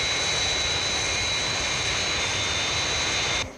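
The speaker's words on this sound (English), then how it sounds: "The new Fireflash Max 6 atomic airliner is in distress at London Airport." Fireflash Max 6 atomic airliner in distress in flight near London Airport, a loud steady jet engine roar with a high whine held throughout, cutting off abruptly at the end.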